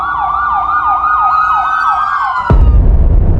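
A police car and ambulance siren wails in a fast repeating up-and-down pattern, loud and close, then cuts off abruptly into a low rumbling roar of traffic or engine noise.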